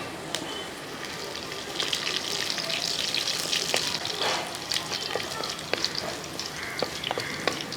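Garlic, dried red chillies and curry leaves sizzle steadily in hot oil for rasam, a close, continuous crackling hiss with scattered sharp pops and a faint stirring scrape throughout.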